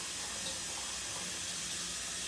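Warm tap water runs steadily over three peeled eggs in a sink, a continuous even rush at moderate level with no speech.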